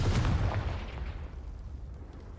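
In the Hogwarts Legacy video game, a Confringo spell explodes in a heavy, close burst at the start, with the low rumble decaying steadily over a couple of seconds.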